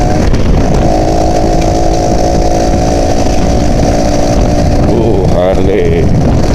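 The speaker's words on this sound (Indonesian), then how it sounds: "Mas Gondrong mau gas pol-polan" An old Yamaha Alfa 2R motorcycle engine is revved hard at full throttle, a loud, close, continuous buzzing roar that holds steady throughout with a slight pitch shift near the end.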